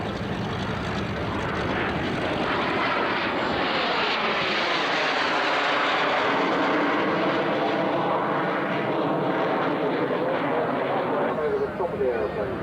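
Jet Provost Mark 4 jet trainer displaying at the 1996 Shoreham airshow, a loud continuous engine roar sweeping in pitch as it passes overhead, with an announcer talking over it.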